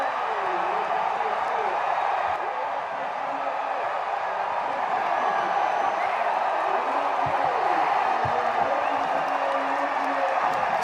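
A baseball crowd roars steadily after a walk-off win, a dense, sustained wash of cheering and shouting from many people, loud and unbroken throughout.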